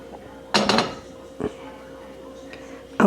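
Chicken stew ladled into a bowl: a few soft clinks and scrapes of a spoon against the pot and bowl, close and quiet, with gaps of near silence between them.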